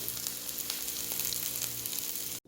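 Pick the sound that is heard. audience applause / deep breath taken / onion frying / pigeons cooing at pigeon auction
onion frying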